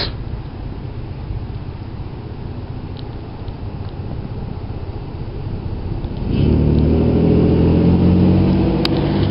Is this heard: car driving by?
yes